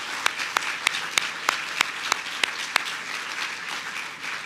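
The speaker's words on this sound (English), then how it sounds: "Let's give them a round of applause." Applause from an audience at a community leadership awards evening, a steady wash of clapping with a few sharp, louder claps standing out near the front, fading slightly toward the end; no talking.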